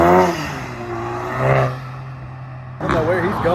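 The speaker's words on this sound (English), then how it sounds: "Man, I just love the way this car sounds." A V8 Scat Pack muscle car engine with a modified exhaust revs with a deep throaty rumble, rising in bursts, while someone talks over it nearby.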